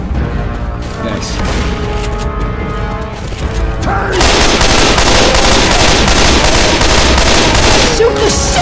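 Gunfire in the zombie shooter Left 4 Dead 2, a mechanical rattle giving way to a dense, loud barrage of continuous shots and booms that fills the second half, with voices talking underneath.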